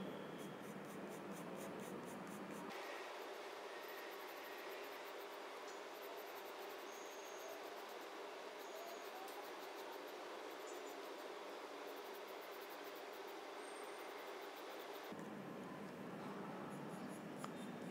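A pencil scratches steadily across paper, pressing firmly to shade very dark hair along the direction of the strands, a close, continuous dry rubbing that runs on without pause.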